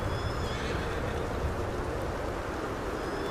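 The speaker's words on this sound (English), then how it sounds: "Jesus, horse. Why don't you jump?" A horse whinnies in a video game over a dense, steady wash of background noise with faint hoof clopping. The level stays fairly constant and there is no talking.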